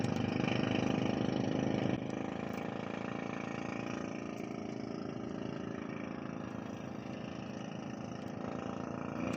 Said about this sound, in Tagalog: Maraming tunog ng makina